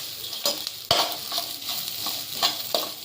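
Ingredients roasting in ghee in a pan for obbattu sambar, with a steady sizzle broken by a few sharp stirring scrapes of a spoon against the pan, close and fairly loud, no talking.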